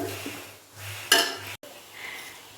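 A utensil stirs rice in a cooking pot for chicken biryani, producing soft scraping with one sharper metallic clank partway through, heard close and short with no clear talking.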